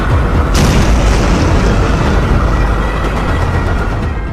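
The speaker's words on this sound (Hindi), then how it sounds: "धमाका इतना जोरदार कि गूंज अंकारा से लेकर वॉशिंगटन तक सुनाई देती है।" A suicide bomb blast near the Turkish parliament in Ankara: a sudden, loud, sustained roar with a sharp onset, deep rumble and broad crackling wash that fills the whole span, with no voices.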